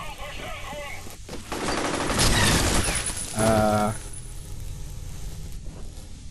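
Rapid bursts of gunfire from the player's super weapon in the first-person shooter F.E.A.R., loud and close for a couple of seconds, with a voice exclaiming around it.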